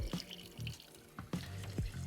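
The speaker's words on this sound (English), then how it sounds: "I'm gonna drain that water off." Rinse water from washed rice drains into a kitchen sink in a few short splashy pours and trickles, close and fairly quiet, with brief pauses between.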